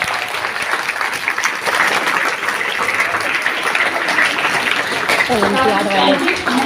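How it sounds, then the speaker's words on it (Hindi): At a school's special Hindi department assembly, the audience claps loudly and steadily for the children, and a voice comes in over the applause toward the end. "सो प्लीज सब लोग खूब जोर से तालियां बजाएं बच्चों के लिए"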